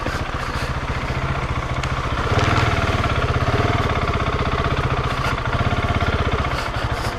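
2024 Husqvarna 701 Enduro single-cylinder motorcycle idling close by, a steady low thumping pulse that swells briefly around the middle, no talk.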